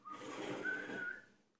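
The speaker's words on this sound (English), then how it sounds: "Singing, whistling." A person whistles a short melodic phrase while cooking outdoors on a farm in Alberta, a single clear sustained tune lasting under two seconds, close and moderately quiet, fading out at the end.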